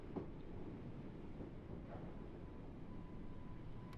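An underground tube train rumbles along in the Train Sim World 6 video game, a steady low droning roll with faint clicks and a thin tone near the end.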